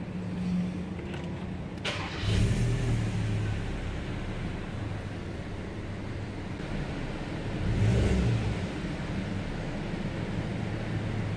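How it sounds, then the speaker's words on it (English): A car engine is cranked and fires up with a brief whir, then settles into a quiet steady idle, with a second short rev partway through, heard close and alone. "Now let me start the engine and see."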